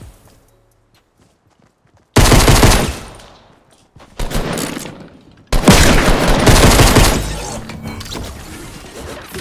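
Bursts of Fortnite Battle Royale gunfire erupt after a quiet opening, with loud, dense broadband shots clustered in three sections and a brief break between them.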